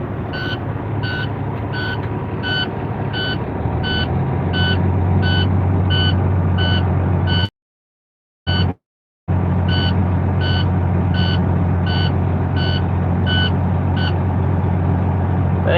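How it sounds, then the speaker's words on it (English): An International truck's reversing alarm beeps in a steady, evenly spaced loud pattern over a low idling diesel engine rumble, briefly cutting out for about two seconds before the beeping resumes. "That beeping on the internationals is so annoying."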